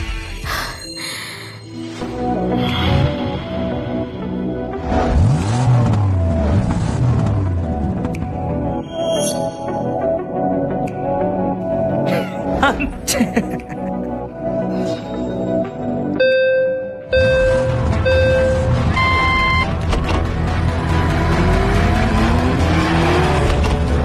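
Racing cars and a taxi in a dramatized race, with roaring engines sweeping past, tire squeals and skids layered over a dense, busy mix of effects and music, loud throughout.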